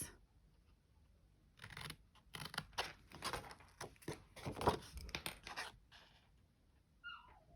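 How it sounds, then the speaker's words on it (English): Paper snips cut sections out of paper for a treat gift box: a quiet run of crisp, closely spaced snipping clicks, close by and with no talk. "you're going to need your paper snips, and you are going to cut these 2 sections out completely"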